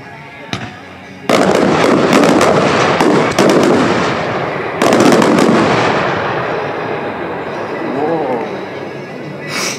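Daytime fireworks at a pyrotechnics presentation burst with a series of loud, booming bangs, several sharp reports in quick succession followed by rumbling, crackling tails and a faint whistle near the end.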